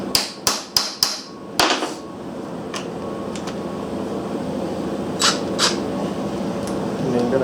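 Sharp metallic hammer taps on a part of a Briggs & Stratton Model L engine: four quick strikes in a row, then a single louder blow, close and distinct over a steady background hum, with faint scattered clicks afterward.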